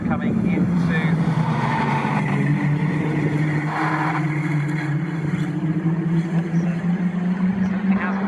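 Caterham Seven 310R race cars roaring past during a championship race at Snetterton, a continuous loud engine drone rising and falling as they pass, with a commentator talking over it throughout.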